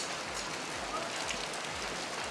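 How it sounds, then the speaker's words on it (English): Rain at Mookambika temple in Kollur falls steadily, a dense, even hiss of drops striking nearby surfaces with no pauses. "It is raining, so they are going."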